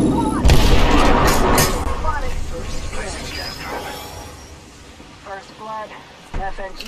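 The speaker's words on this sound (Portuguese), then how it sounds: "Eu joguei bomba nele." Grenade blast and gunfire in Apex Legends played on PC with an Xbox controller, a loud booming explosion up front followed by scattered in-game shots and effects, with a player talking excitedly over the action.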